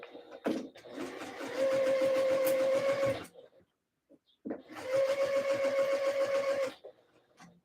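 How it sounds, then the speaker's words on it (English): Sewing machine stitching a quarter-inch seam at a longer stitch length, running in two steady bursts of about three seconds each with a brief pause between, close and fairly loud with a buzzing, rapid mechanical rhythm. "I'm just going to sew down this line at a 1/4 of an inch seam allowance at a fairly longer stitch length."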